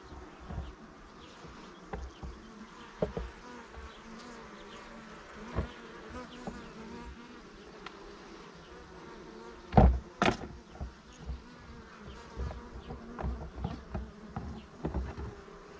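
Dense honeybee buzzing fills the air at an open hive during a queen check, a steady close swarm drone with occasional knocks and clicks of frames and tools.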